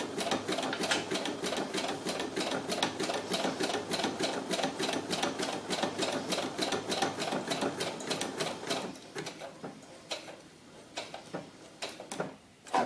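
A sewing machine stitches a buttonhole in sheepskin fabric with a rapid, even mechanical chatter that runs steadily for several seconds, then slows into scattered clicks and stops as the buttonhole finishes.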